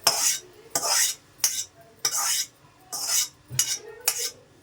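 Fresh coriander leaves are stirred and roasted in a pan for coriander chutney, with about seven rhythmic, close scrapes of a utensil against the pan and no talk.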